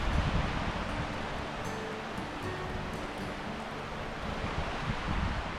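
Gusty wind blows steadily outdoors beside a river at a backpacking campsite, a dense, rushing roar with slight swells and no voices.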